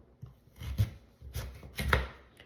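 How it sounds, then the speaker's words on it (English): Knife chopping rutabaga into small pieces for a pot roast, with three clusters of firm board taps spaced about half a second apart, close and moderately loud, no talking. "You just cut it in small pieces."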